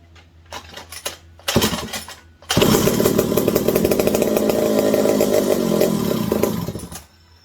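A McCulloch 740 chainsaw engine coughs with a few short bursts, then catches and runs loud and steady for several seconds with a rough, uneven idle before cutting out.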